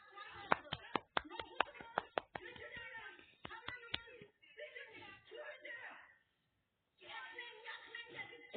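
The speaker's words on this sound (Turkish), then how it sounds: "Alkışlar." Clapping at a stage event as a child is called up: a quick burst of sharp, close hand claps over about four seconds, mixed with voices talking, then fading into continued chatter.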